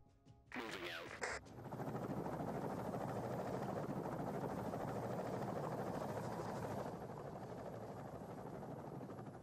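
A helicopter in an Afghanistan-set war game roars steadily close by, its dense rotor and engine noise filling the scene after a few sharp clanks at the start, with no talking.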